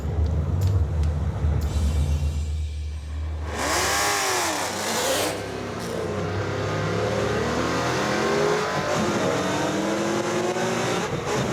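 Mazdarati project car launching hard off the line in a race, engine revving and accelerating loudly with a rising, sweeping roar and brief tire squeal, after a short idle rumble.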